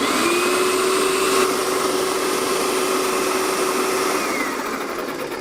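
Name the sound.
airless paint sprayer pump priming, drawing paint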